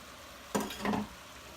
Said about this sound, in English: Get everything all mixed together.